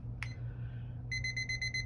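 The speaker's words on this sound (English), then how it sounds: "let me set my timer" A kitchen timer alarm sounds as a rapid series of bright electronic beeps in a steady pulsing rhythm, close and fairly loud, after a short click while the timer is set, over a low background hum in a home kitchen.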